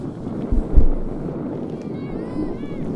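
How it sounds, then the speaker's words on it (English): Wind gusts buffet an open microphone outdoors at a girls' soccer game, with low rumbling thumps and a steady noisy rush, while faint voices and distant crowd murmur sit underneath. "You can hear the wind just sort of whipping"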